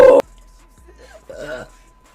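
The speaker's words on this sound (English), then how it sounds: "Oh my god, I have to burp again." A woman lets out a loud, deep burp lasting a fraction of a second, followed by quieter breathy vocal noises close to the microphone.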